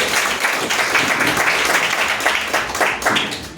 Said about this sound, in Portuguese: As palmas louvem o mais.